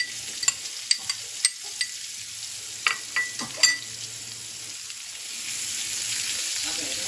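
Sliced onion hitting hot oil in a frying pan as a sauce is started, a few sharp clicks and stirs giving way to a steady close sizzle that swells toward the end.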